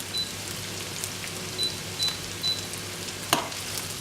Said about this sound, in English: this stuff is actually cooking in the oils on the pan